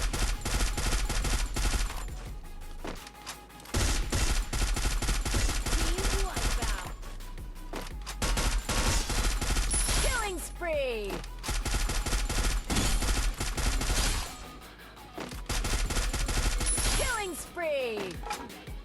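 Gunfire in Free Fire, with long, loud bursts of rapid automatic shots repeating in several rounds, separated by brief pauses and small whooshing effects.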